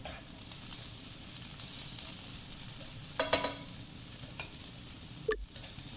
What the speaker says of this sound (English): add in the green chilies. Okay, just give it a mix.